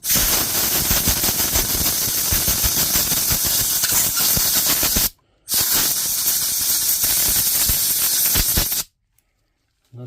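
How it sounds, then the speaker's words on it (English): Compressed air from a compressor airline blasting a DeWalt DCN660 nailer dry, a loud, close, hissing rush in two long bursts separated by a brief pause, then silence. "we could speed up the process with the airline. Right, so we'll blow this dry with a compressor."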